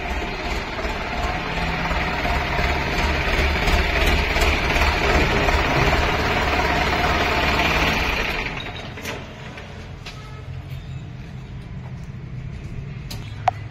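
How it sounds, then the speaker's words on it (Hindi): Indo Farm 3055 DI tractor from 2019 with its diesel engine idling nearby, a steady loud mechanical chugging that drops to a quieter, softer idle partway through, with no talk. "एक ट्रैक्टर ये आ चुका है हमारे पास इंडो फार्म 3055 DI C-मेस।"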